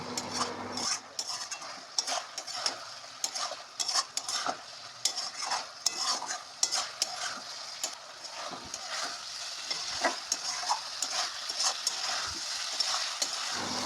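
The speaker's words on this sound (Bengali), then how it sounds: "আস্তে আস্তে লাড়াবেন যাতে লতিগুলো ভেঙে না যায়" Kochur loti (taro stolons) stirred gently in a kadai: repeated scraping strokes of a spatula against the metal pan over a soft sizzle, irregular and close, with no voices.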